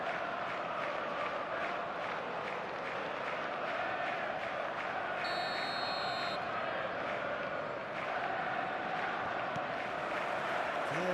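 Stadium crowd in an eFootball video game before kickoff, a steady roar of massed voices with scattered cheering, continuous and broad throughout.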